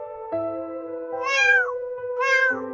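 A domestic cat meows loudly at dawn, two long rising-and-falling calls close to the listener over a steady low background hum.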